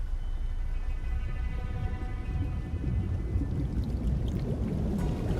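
Swamp water bubbling and gurgling in the Ori and the Will of the Wisps game, a steady low murky burble with wet popping bubbles over a faint tonal ambient drone, no talking.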